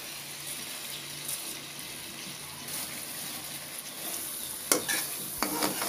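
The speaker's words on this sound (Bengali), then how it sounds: "মশলাটা কষানো হয়ে গেছে, এখন এই মাছ ভাজাটা দিয়া দেব।" Fried fish pieces go into a pan of cooked-down spice masala for North Bengal alu ghati, with soft stirring and low sizzling throughout and a few sharper utensil scrapes and clinks near the end.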